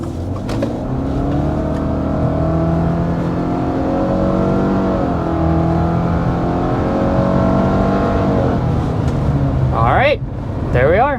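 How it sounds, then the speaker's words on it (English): A 2024 Subaru Crosstrek Wilderness accelerates hard to 60 mph, its engine droning and climbing in pitch through gear changes from inside the cabin, with a brief voice near the end. "There we are, 60 miles per hour in the Wilderness Crosstrek."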